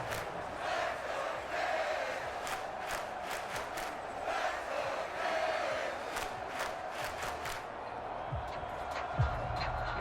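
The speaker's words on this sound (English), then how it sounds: "This crowd turning up the decibel level." A football stadium crowd roars loudly and continuously during an NFL game between the Dolphins and Vikings, a dense, steady wall of noise with a few sharp thumps near the end.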